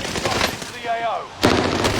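Gunfire in a first-person shooter video game, with bursts of shots crackling through the opening and again near the end, close and fairly loud over busy game sound with a faint voice in between.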